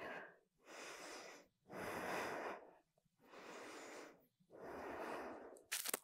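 Deep breathing during a strong vinyasa yoga flow, long, slow, close breaths alternating inhale and exhale about four times, soft and airy with brief pauses between.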